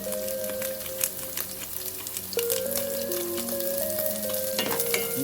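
Sliced onion and black pepper fry in a hot pan for Bicol-style pancit bato, giving a steady, close sizzle with scattered crackles and a few clinks of a utensil against the pan.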